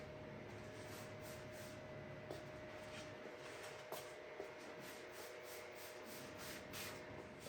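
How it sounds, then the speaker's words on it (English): Short, repeated hissing sprays from a bottle of cleaner in a grow tent, several quick bursts in a row against a steady background hum. "all we did was we just gave it a light spray."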